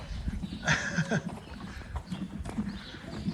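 Dutch harness horse hooves clip-clop in a steady, moderately close rhythm, with a person talking briefly and a soft snort or whinny mixed in.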